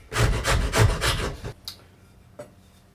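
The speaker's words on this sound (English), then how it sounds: "So you can see the power of a rasp here. They're fantastic at removing wood." A wood rasp files the wooden shaft of a medieval mace. Close, rough scraping strokes come in a quick rhythm for about a second and a half, then a few faint scuffs follow.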